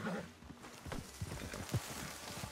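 Horse hooves clip-clopping as the animal walks off through scrub in Red Dead Redemption 2, a soft irregular series of thuds over a low, noisy outdoor bed.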